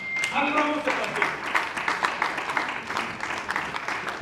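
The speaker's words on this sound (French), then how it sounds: "Encourageons cet article par les acclamations" Guests at a civil wedding applaud and cheer in a sustained burst of clapping close by, mixed with voices and shouts throughout.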